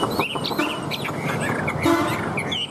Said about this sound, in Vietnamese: Đây là chim đang đấu với điện thoại các bác nhá.